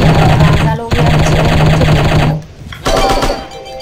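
Rapid bursts of AK rifle fire in a shooting video game, loud sustained automatic volleys with a short pause before a final burst, no speech over it.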